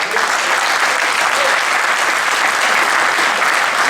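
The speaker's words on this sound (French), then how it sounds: "Je vous demande d'applaudir Mathieu Ingan." An audience at a billiards competition breaks into sustained, dense applause, loud and close, a steady wash of many hands clapping with no pauses throughout.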